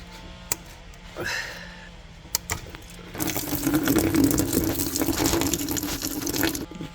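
Coolant and oil drain from the transmission cooler of a 2018-2024 BMW X3 G01 with a B58 engine into a catch container, a few sharp drips and taps, then a steady splashing pour that fills the space, close by.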